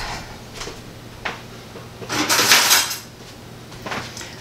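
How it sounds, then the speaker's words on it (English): Cutlery and dishes clatter in a home kitchen as a knife is fetched for slicing cucumbers for pickles: a few light clinks, then a louder rattling rummage through metal utensils, with quieter taps after. "I need a knife."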